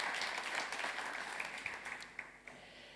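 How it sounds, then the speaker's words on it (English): Audience applause at a summer summit forum, a broad wash of clapping that gradually thins into a few scattered, distinct claps as it fades out. "This round of applause"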